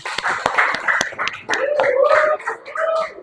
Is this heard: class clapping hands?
yes